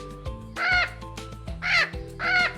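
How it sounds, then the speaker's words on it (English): A parrot in the jungle gives three loud, harsh squawks, evenly spaced and close, over a low, steady background drone. "Look, it's a parrot."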